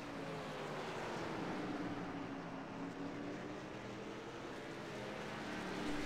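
Race car engine drones steadily through a turn in a Martinsville oval racing video game, a continuous buzzing motor roar with no talk.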